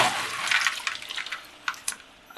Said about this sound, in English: there's a simple step, remove the water